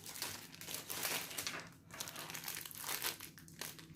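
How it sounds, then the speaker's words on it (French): Plastic protective film is peeled and crinkled off a finished diamond painting, making a close, continuous crackling and rustling with a few brief pauses. "on va enlever, donc je ne voudrais pas l'abîmer, le plastique de protection"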